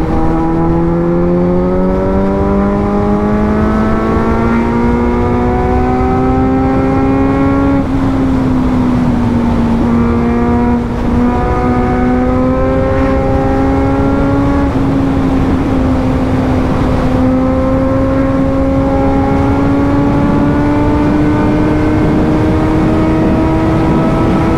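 A Kawasaki Z900 motorcycle engine drones loudly and steadily, its pitch climbing as it accelerates through several gear changes, heard close and alone.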